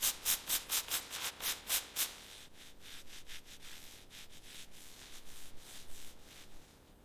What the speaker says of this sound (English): apply the compound in circular motions. Now, buff it briskly to remove the oxidation